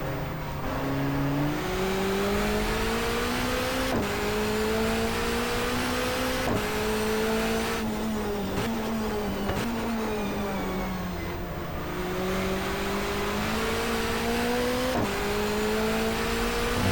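Touring car racing on the Canberra street track in the GTR2 video game, with a continuous loud engine drone that climbs in pitch through the gears, then briefly drops and climbs again, lasting the whole stretch with no talk.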